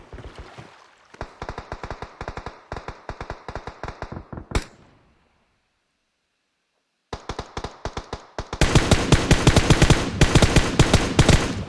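Video game gunfire rattles out in rapid automatic bursts of sharp, close shots, breaks off for a few seconds of silence, then resumes in a denser, louder stream of fire.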